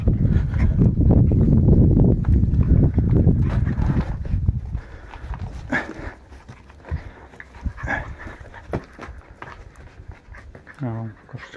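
A dog pants and fusses close by while people talk outdoors beside an old Soviet-era railway, with scuffling and a short burst of rapid yips near the end.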